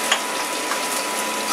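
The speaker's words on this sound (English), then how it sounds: "You're sweating your shallots off there a little bit now." Shallots gently sweating in a frying pan, giving a steady, soft sizzle with faint stirring clicks, close and continuous, with no talk.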